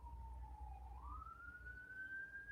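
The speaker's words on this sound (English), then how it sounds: "Well, you can hear the sirens out there." Emergency vehicle siren wailing outside, a single steady tone that dips and then rises in a slow sweep, heard at a distance over a low background rumble.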